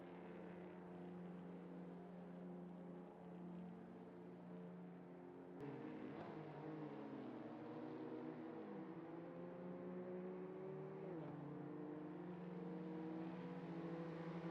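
A racing car in a racing video game heads into the pits at Brands Hatch, its engine a faint, steady drone whose pitch sweeps down and back up as it slows and passes, with no talk.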